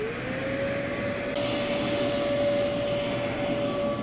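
A household vacuum cleaner drawing a little over 1,000 watts from a Goal Zero Yeti 1000 portable power station runs with a loud, steady motor whine and airflow roar throughout.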